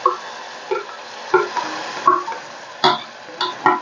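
Garlic and dried red chillies sautéing in a pan, a soft sizzle broken by repeated scraping stirs of a spoon against the metal at an uneven rhythm, close and unaccompanied.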